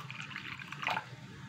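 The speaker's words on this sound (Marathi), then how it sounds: "त्याच्यामध्ये थोडंसं पाणी टाकून" Water poured onto tamarind and jaggery set to soak for sambar, a short close splash and trickle with a brief brighter burst near the end.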